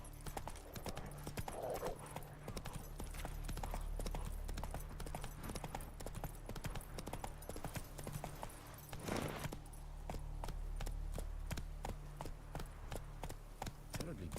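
Roach the horse galloping in The Witcher 3, with rapid rhythmic hoof clip-clops sounding as sharp repeated beats over a low game ambience, with a brief swell of noise in the middle.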